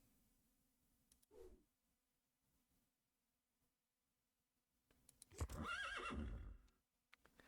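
Horse neigh sound effect for the Trusty Steed card in the Dominion Digital card game: a short whinny snort, then after a pause a loud, drawn-out whinny lasting about a second and a half, with no talking.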